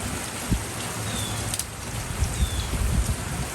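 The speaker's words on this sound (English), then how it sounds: "Yeah, it's raining." Rain falls steadily outdoors, a dense even patter of drops with a few louder individual hits, fairly close and without talk.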